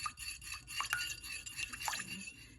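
Melted ghee stirred in for oil roti, a short burst of soft scraping and rubbing strokes of a utensil in a bowl, close and quiet.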